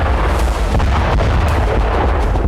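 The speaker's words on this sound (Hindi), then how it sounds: "वेस्ट बैंक के तुलकरम में इजराइल ने एक के बाद एक कई धमाके किए।" Loud, dense rumbling blasts from Israeli bombardment in Tulkarm, West Bank, with several booming impacts merging into a continuous roar.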